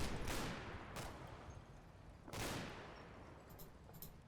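Bursts of automatic fire from a Bren light machine gun in a World War II Normandy battle, two long rattling volleys close by with faint distant shots trailing after, no talking.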